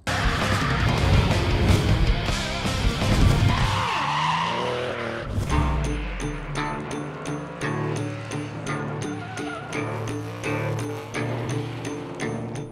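Drift cars battle side by side at a round of the French Drift Championship in Bordeaux, with loud tire squeal and skidding over roaring, revving engines that shift in pitch as they slide past.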